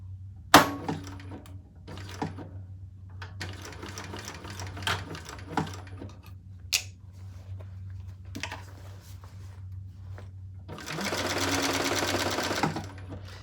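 A sewing machine stitches a seam on a crossbody bag in short stop-start runs with scattered clicks, ending in a longer steady whirring burst.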